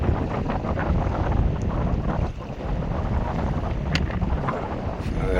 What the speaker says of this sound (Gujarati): પવનનો જ અવાજ આવતો હોય,